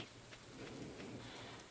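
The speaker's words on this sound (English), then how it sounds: "Oh, the little strawberry farm in the rain." Steady rain pattering on a strawberry farm in the Stardew Valley video game, a soft, continuous hiss with faint scattered drops, heard alone at low level.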